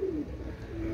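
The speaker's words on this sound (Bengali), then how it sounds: "এটা হচ্ছে কালদম কবুতর, কালদম সিঙ্গেল একটা নর" A single male Kaldam pigeon gives a short, soft coo close by, a brief low call that fades against a quiet background.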